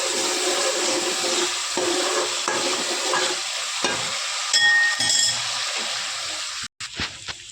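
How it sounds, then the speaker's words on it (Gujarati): Masala spices sauté and sizzle in a pan for a Gujarati fish curry, a steady close crackling fry with occasional stirring scrapes and clinks. Near the end the sound briefly drops out. "તો સરસ આપણો મસાલો સોતરાય છે।"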